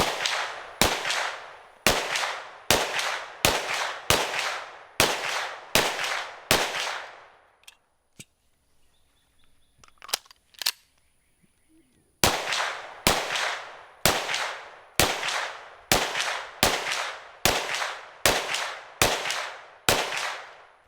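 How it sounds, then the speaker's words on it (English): A Sig P320 X-Ten 10mm pistol fires 105 grain hollow point rounds at 10 yards in quick strings, a run of about nine sharp evenly spaced shots, a brief pause with faint handling clicks, then another rapid string of similar cracks. "Pretty rapid fire,"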